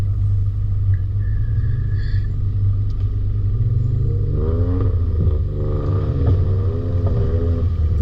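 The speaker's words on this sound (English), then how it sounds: "You're not left wondering when you hear that thing coming which Pajero it might be." A Pajero four-wheel drive with an aftermarket exhaust rumbles steadily on a night run, a deep continuous low drone that rises into a throatier, revving note partway through, fairly close and alone.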